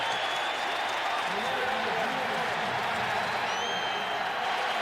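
Roaring stadium crowd in Oakland cheering a Raiders goal-line defensive stop against the Bills in a 2005 NFL game, a steady loud broad wash of cheers and applause throughout, with a faint whistle-like tone near the end.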